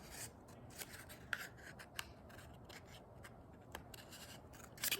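Scissors cut slits into a cardboard toilet paper roll, giving faint, close, scattered snips and papery rubs over quiet room background.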